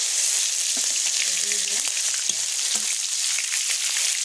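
Onion paste hitting hot oil with melted caramelised sugar, a loud, bright, steady sizzle up close, with a few soft knocks and faint murmurs low underneath.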